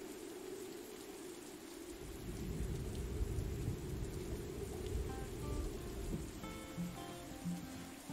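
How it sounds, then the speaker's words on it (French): Steady rainfall in the video game Morels: The Hunt patters with a low rumbling wash underneath, swelling slightly after a couple of seconds; faint soft tones chime in toward the end. "Ah, il pleut."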